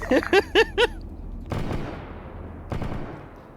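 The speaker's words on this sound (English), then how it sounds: "It's the laser cannon going off." Laser cannon firing in a multiplayer vehicle combat video game, two loud broadband bursts about a second apart, each with a decaying rumbling tail, preceded by a quick series of short tonal beeps.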